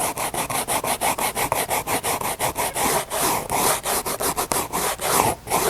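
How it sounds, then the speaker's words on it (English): Sanding a metal car body panel in a metal-shaping shop: a loud, close, steady back-and-forth abrasive rasp in rapid, even strokes, with no talking. "So we're gonna sand it in here, and it'll be a few minutes of sanding on each one."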